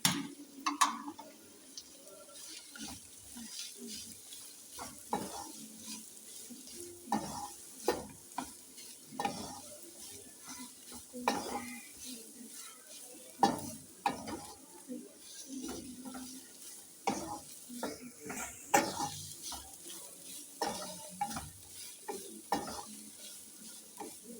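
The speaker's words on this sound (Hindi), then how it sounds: "अब मैं इसमें बंद गोभी ऐड करूँगी।" Cabbage tossed into a sizzling pan of Chinese-style chicken kebab mixture, a spoon scraping and stirring in irregular bursts over a steady low frying hiss, close and fairly quiet.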